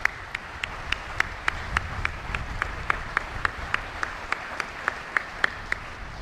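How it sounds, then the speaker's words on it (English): At a military change of command ceremony for U.S. Indo-Pacific Command, an audience applauds: a moderate, evenly paced stretch of clapping with crisp individual claps, continuing steadily for several seconds without talk. "So please join me now in a round of applause."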